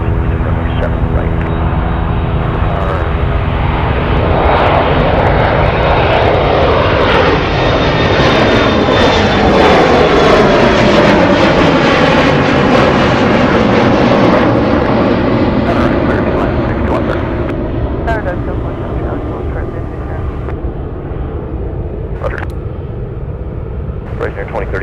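Boeing 747 Dreamlifter cargo jet at Anchorage airport, engines roaring loud and close, swelling to a peak mid-pass then slowly fading as it departs, with air traffic radio talk heard underneath.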